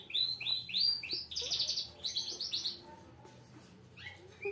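A canary chirps close by in rapid bright sweeping notes and trills, with a short pause near the end and then a few more chirps, over a low background murmur.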